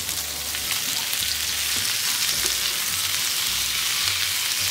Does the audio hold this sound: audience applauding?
no